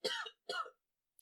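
Two quick, close coughs in succession, followed by a brief breathy sound at the end.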